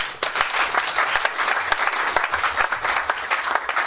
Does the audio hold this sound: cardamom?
no